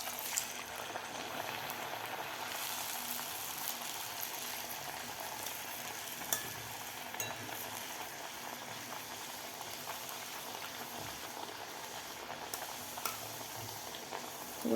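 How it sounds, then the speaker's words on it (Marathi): Bharda flour vada deep-frying in a pan of oil, a continuous fine bubbling sizzle heard close, quiet and even, with faint occasional clinks. "तर दुसरा सुद्धा आपण लगेचच तळून घेऊया."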